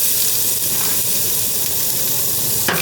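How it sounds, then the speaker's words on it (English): Strips of steak sizzle loudly in a hot pot at a campsite, a dense steady frying hiss close up, with a brief scrape near the end. "so we'll chuck the steak in"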